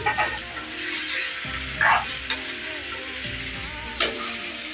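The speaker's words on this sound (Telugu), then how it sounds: "ఇలా బాగా ఫ్రై అవుతుంది కదా చూడండి" Chicken curry with fresh mint frying in oil, village style, crackling steadily with a few sharp stirring scrapes and clinks near the pan.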